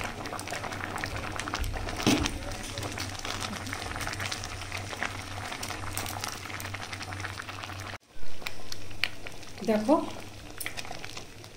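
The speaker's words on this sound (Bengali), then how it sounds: "এটা মাটির হাঁড়ি তো সেই কারণে টকবক করে ফুটছে" Khichuri with tomato, ginger and chili cooking in a clay pot, a continuous bubbling sizzle under a woman's brief speech, broken by a short pause and a clatter of stirring.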